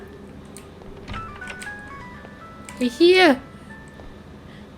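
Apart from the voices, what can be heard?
old mobile phone ringing in the horror video game ARAYA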